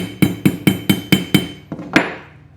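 A small jeweler's hammer taps the metal edges of an antique jaw harp under repair in a steady run of about eight bright, ringing strikes, each decaying quickly, with the last blow slightly heavier.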